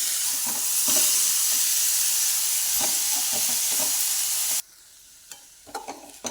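Sprouted moth beans sizzle loudly as they fry and get stirred in a pan, a dense hiss that suddenly drops away, leaving scattered scraping clicks of the spoon.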